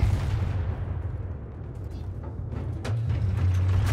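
Heavy gunfire and booming artillery in the first-person shooter video game Battlefield 3, a dense continuous low rumble of shots and blasts throughout with no voices.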